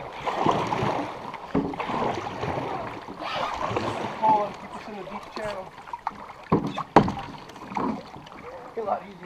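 Canoes paddled on Lake Superior near the Sand River bump and slosh through the water, with irregular splashes, knocks and paddle strokes close by while people talk and shout over them.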